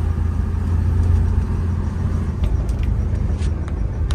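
A restored Studebaker car driving, with a loud, steady low engine rumble heard from inside the cabin and faint clicks near the end.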